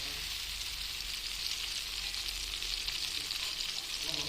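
Masala and water sizzle steadily in a pan while being stirred for Assamese-style mutton curry, a continuous close hiss with no talking.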